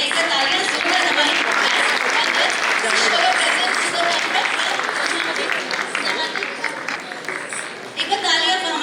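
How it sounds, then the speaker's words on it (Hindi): Sustained, dense applause from an audience after a children's performance at a Hindi Divas event, loud and steady for nearly nine seconds, easing slightly near the end. "एक बार तालियां जोरदार हमारी"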